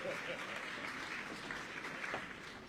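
Applause from a gala audience, a steady wash of many hands clapping at a distance, fairly faint and sustained throughout with faint voices mixed in.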